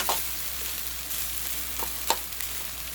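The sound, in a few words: stirring tomato rice in a pan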